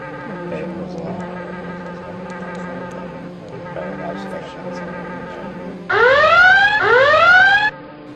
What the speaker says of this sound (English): Guys, the alarm signal!